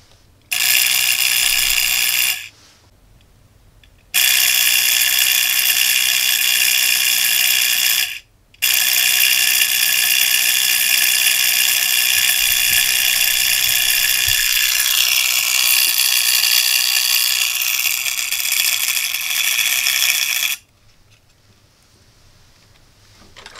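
A loud, harsh electrical buzzing from an electromagnet high-voltage spark generator runs in long bursts, cutting out briefly twice before stopping near the end.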